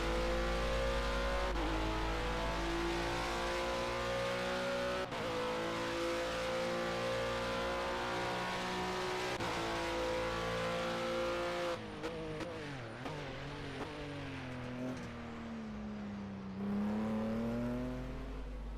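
A race car engine from the video game Project CARS 2 plays back in a replay, screaming at high revs through long sustained pulls with brief shifts, then dropping and climbing again, loud and continuous with no talk.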